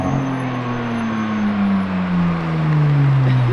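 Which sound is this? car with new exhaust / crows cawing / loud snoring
car with new exhaust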